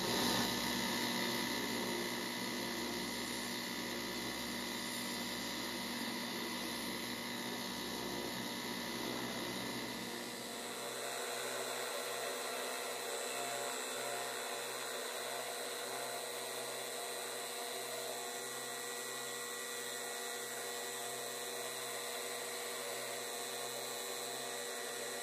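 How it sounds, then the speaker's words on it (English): A Damascus roughing gouge is sharpened and then polished on a stropping wheel, giving a continuous, even whirring and grinding hiss that stays loud and unbroken. A high whine drops away partway through while the broadband rush carries on alone. "put a bevel on the blade, and run it over to the stropping wheel to get a final polish on it."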